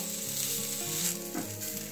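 A rava besan dosa fries on a hot griddle, giving a steady, close sizzle and crackle that runs without a break and without any voices.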